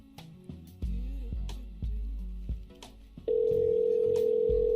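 Telephone tones during an unanswered call heading toward voicemail: a series of short low pulses, then one steady, loud, sustained tone at the end, with no voices.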